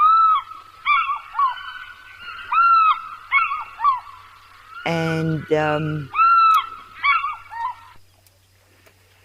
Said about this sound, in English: the sound of the fish eagle, beautiful sound